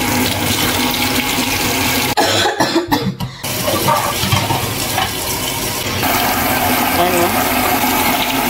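Murky, dirty tap water runs steadily and loudly in a home kitchen, a continuous broadband rush broken briefly by handling noise and a short word spoken over it.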